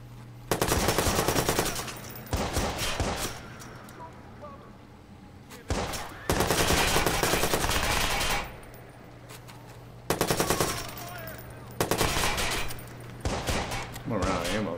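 Long bursts of machine-gun fire in the video game Watch Dogs, loud and close, coming in four or five sustained volleys broken by short quieter pauses, with a voice occasionally underneath.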